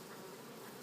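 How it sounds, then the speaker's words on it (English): A swarm of honeybees flying around a hive entrance after a cone extraction, a steady, soft, continuous buzzing hum with no voices. "And you can see a bunch of bees flying around at the hive trying to get back in the hive."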